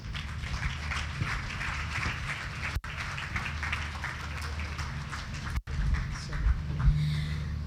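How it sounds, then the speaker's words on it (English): An audience at a Global Gateway campaign launch in Nigeria claps steadily after a speech, a dense sustained applause filling the room, with brief cuts and a faint voice near the end. "I think he deserves another round of applause."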